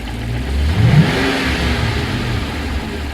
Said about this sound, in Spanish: A ver, dale un acelerón por favor